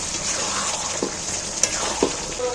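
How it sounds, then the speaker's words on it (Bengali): Chicken with tomato and salt is stirred and sautéed in a pan, producing a steady close sizzle with a few soft knocks of the spoon against the metal. "নুনটা দিয়ে এইবার আমি ভালো করে নেড়ে চেড়ে কষিয়ে নিচ্ছি"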